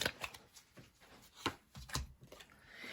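A deck of tarot cards is shuffled close up and quietly, a run of soft riffling flutters and light taps in an uneven rhythm.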